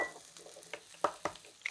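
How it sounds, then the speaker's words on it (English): Eggs are cracked into a bowl, giving a few sharp, quiet taps and cracks at an uneven pace in an otherwise hushed kitchen. "So we'll just crack them straight in."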